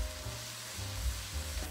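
Onions frying in oil and butter for chicken empanada filling, a steady close sizzle with soft stirring scrapes, no voices.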